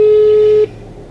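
A steady telephone tone, as when dialing a call to book an appointment, holds for about half a second before dropping away to quiet background.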